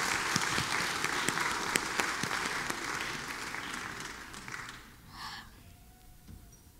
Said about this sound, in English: Can we just get one more round of applause just for that?